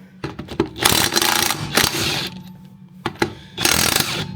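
A ratchet fitted with a 19 mm socket works loose the lug nuts on a 1964 Rambler, giving rapid clicking pawl bursts in short repeated strokes, close up and loud, with brief pauses between them.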